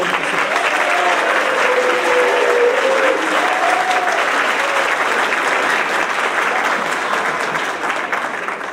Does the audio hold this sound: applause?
yes